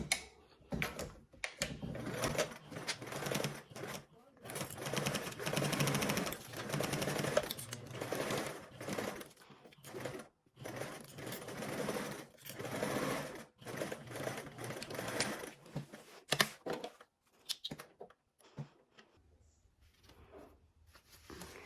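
A sewing machine stitches lining fabric at a half-inch seam allowance in bursts of rapid, even whirring, pausing and restarting several times, with soft handling noises between runs.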